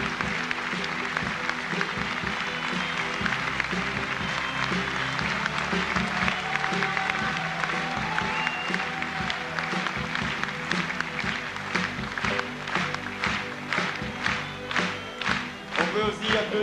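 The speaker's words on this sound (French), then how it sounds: "On les applaudit bien fort." A theatre audience at a revue applauds loudly and continuously, a dense wash of clapping that grows more rhythmic and pulsing toward the end, with some crowd voices mixed in.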